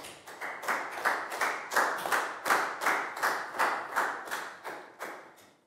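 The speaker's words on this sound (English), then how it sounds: "a big round of applause for Pak Bung, please, guys" A Year 4 class claps for a student during a health lesson, a steady, evenly timed run of about a dozen sharp group claps, close and fairly quiet, with no talking.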